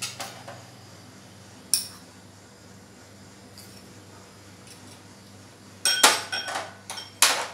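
Corn is mixed with cornflour in a bowl using a spoon, producing scattered clinks and scrapes against the bowl, with sparse taps early on and a denser, louder burst near the end, and no talking.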